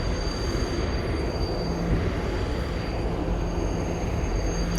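A New York subway train of R62 cars rolls out of the station with a steady, loud rumbling clatter and a thin, high wheel squeal running throughout.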